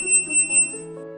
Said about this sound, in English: If the ezDispense indicator is blinking and you hear the refill alarm, check the compartments.